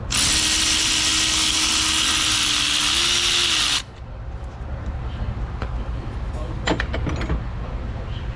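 A tool runs on a starter motor bolt on a Toyota Camry in a no-crank, no-start repair, giving a loud close buzzing whir for almost four seconds before it cuts off. A few faint clicks follow over background noise.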